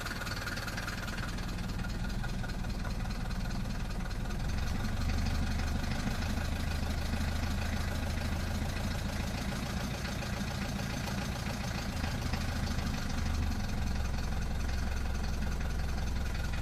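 A 1972 Mercedes W115 220 Diesel engine idles slowly with a steady, low, knocking diesel rumble that stays even and continuous throughout.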